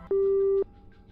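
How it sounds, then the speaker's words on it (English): A single steady phone ring tone in the video game Doki Doki Afterimage, one sustained electronic burst lasting about half a second, loud and clear over a faint background. "Suddenly, my phone starts to ring."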